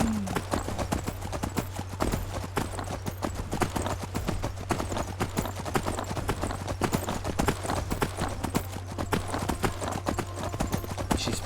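Horse hooves galloping in the video game Skyrim, a rapid, steady clip-clop drumming close up for the whole stretch over a low constant hum, with no voices.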